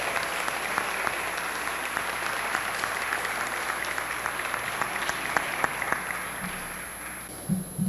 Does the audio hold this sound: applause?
yes